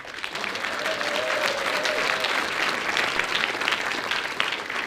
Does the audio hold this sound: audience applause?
yes